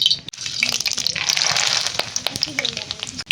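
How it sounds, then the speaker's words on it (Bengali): Loud, continuous sizzling and crackling of whole garam masala, dried red chillies, mace, cumin and bay leaves frying in hot oil, close up, with scattered pops and light stirring clicks. "তেলের মধ্যে ফোড়নে দেবো গোটা গরম মশলা শুকনো লঙ্কা জয়ত্রী জিরে আর গোটা তেজপাতা"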